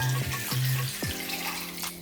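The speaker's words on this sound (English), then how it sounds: "So we're going to add in 2 cups of water." Two cups of water run from a tap for a fried chicken brine, a close, steady splashing stream with a few bright gurgles and shifting pitch as the container fills, with no voices.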